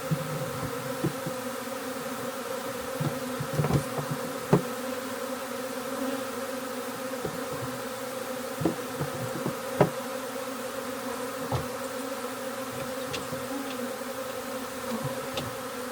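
A swarm of honey bees buzzing around a bee trap, a dense continuous drone close by with occasional louder passes and faint knocks.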